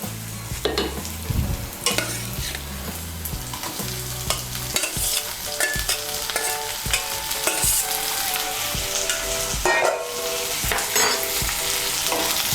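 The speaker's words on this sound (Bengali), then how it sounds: "এখন আমি এর মধ্যে দিয়ে দেবো টমেটো কুচি।" Chopped tomato is tipped into onions fried red in oil for a potato curry, bringing a steady sizzle of frying with repeated scraping and knocking of a spoon stirring the pan, close and clear, no voices.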